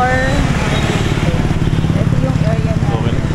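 Motorbikes pass along a busy street beside a hotel in Vietnam, their engines droning continuously and loudly at close range, with indistinct voices mixed in.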